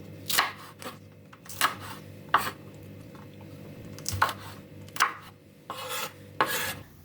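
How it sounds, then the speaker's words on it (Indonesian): A knife slices thinly through a knob of galangal on a cutting board, giving about eight sharp, close chops at an uneven pace over a quiet background. "Untuk bumbu aromatiknya aku menambahkan 1 ruas lengkuas, ini diiris-iris tipis"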